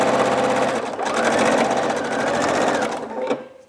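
Quilting rows of a jelly roll race quilt are stitched on a sewing machine, its loud, steady whir running continuously for several seconds before slowing and stopping near the end.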